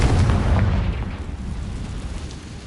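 A heavy, rumbling explosion from the Confringo blast spell in the video game Hogwarts Legacy, loud and sustained with a deep boom that stays dense for several seconds.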